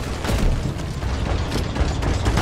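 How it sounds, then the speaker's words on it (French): Dense, continuous rumbling booms from an explosion in Deep Rock Galactic, loud and sustained with crackling bursts and no talking. "Attention, explosion!"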